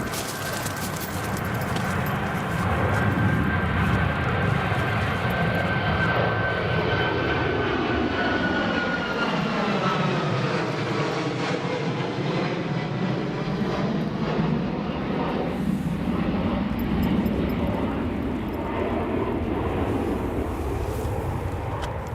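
A jet airliner lands at Newcastle Airport during a wet, windy storm, its engine roar loud and sustained, whining and sweeping in pitch as it brakes down the runway, with wind buffeting throughout.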